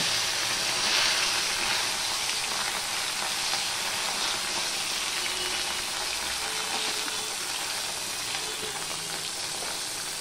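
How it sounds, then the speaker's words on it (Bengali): Constant hissing crackle of small bata fish frying in mustard oil, steady and close, with no voices. "এবার এক এক করে আমি মাছগুলো ভেজে নেব।"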